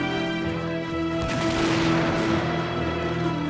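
Musket gunfire in an animated Revolutionary War battle, a dense crackling volley of shots merging into a rumbling roar over a sustained droning background.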